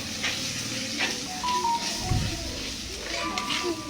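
Turmeric powder sautéing in a pan for kanava (squid) curry, a soft steady sizzle and hiss with faint stirring scrapes under a person talking.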